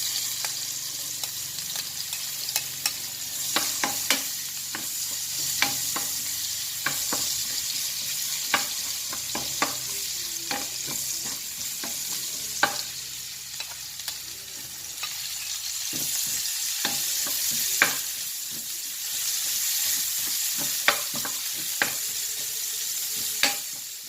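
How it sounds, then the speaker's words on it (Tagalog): Garlic and onion sautéing in a little oil in a pan for bihon guisado, a steady close sizzle with frequent sharp stirring scrapes and clacks throughout, no talking. "gisahin na natin ang ating lamas guys, ahos at bombay."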